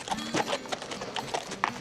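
Horse hooves clip-clop in a steady rhythm, fairly close, with a faint background murmur.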